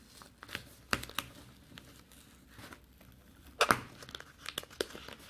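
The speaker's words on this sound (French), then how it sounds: "Je vais tout déchirer." Paper is torn up by hand for a handmade New York-themed photo album, giving two sharp close rips separated by softer crinkling and rustling, with no talking.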